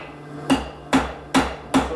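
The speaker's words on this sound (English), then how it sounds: "I'm just more comfortable using my rounding hammer for this." A rounding hammer strikes hot metal at a coal forge, four loud, sharp ringing blows spaced about half a second apart, each with a short metallic decay, heard up close with no talking.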